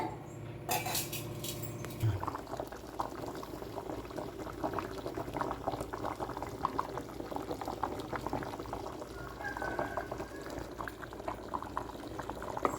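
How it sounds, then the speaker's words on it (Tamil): Potato sambar bubbles in a pot with a steady, close simmering burble, after a brief clatter of utensils at the start. "இந்தளவுக்கு இருக்கட்டும் நல்லா கொதிச்சு வரட்டும்"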